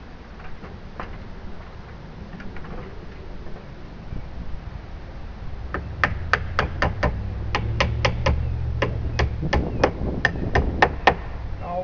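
Hammer blows fix temporary wood blocks onto a roof, first as a few scattered knocks, then as a steady run of sharp, evenly spaced strikes over a low outdoor rumble.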